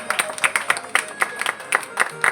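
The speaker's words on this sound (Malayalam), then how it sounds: "എല്ലാവരും കൈയടിക്കും." A small audience at a golden jubilee 50th wedding anniversary celebration clapping, a short burst of scattered, rhythmic hand claps from several people nearby.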